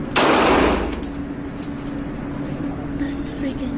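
A real gun fires once at a shooting range, a sharp loud blast at the start followed by fainter clicks and handling noises, with a voice talking quietly afterward.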